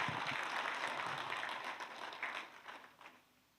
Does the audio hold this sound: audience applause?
yes